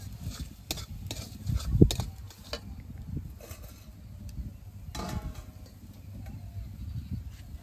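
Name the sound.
duck meat added to fried spices, sizzling and stirring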